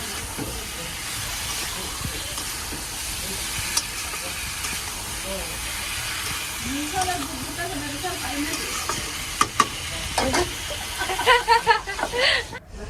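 A vegetable stalk curry with spices being sautéed in a pan, with a constant hiss of frying and intermittent stirring scrapes and clatter that grow busier toward the end.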